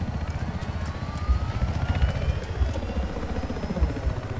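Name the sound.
helicopter in the video game Battlefield 4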